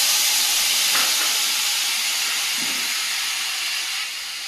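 Spices hit hot oil for a simple river fish dish (bhola fish), producing a loud, steady, close sizzling hiss that fades slightly near the end, with no talk.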